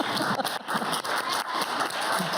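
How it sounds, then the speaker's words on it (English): An audience applauds three medical students standing up at an Indigenous medicine panel discussion, a steady wash of clapping filling the room without pause, moderately loud and close. "We applaud you."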